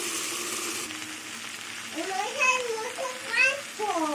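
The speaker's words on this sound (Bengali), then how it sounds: "এবার ঢেকে ঢেকে ভাজবো কিছুক্ষণ পর পর আমি ঢাকনা সরিয়ে খুঁটি দিয়ে নাড়াচাড়া করতে থাকবো" Ivy gourd, potato and onion fry in a covered pan with a steady sizzling hiss, while a voice chatters over the top toward the end.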